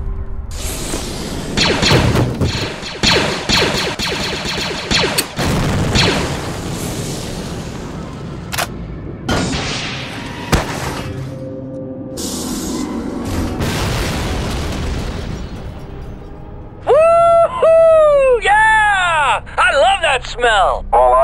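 Explosions in the LEGO Star Wars Clone Wars video game, a string of loud booming blasts and crashes with rumbling debris, followed by warbling electronic game sounds near the end.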